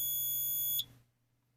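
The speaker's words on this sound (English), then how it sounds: "Tried to start my timer, and now it's not working." A digital timer gives out a single sustained high-pitched beep lasting nearly a second, which cuts off abruptly. A faint click follows moments later over a low hum.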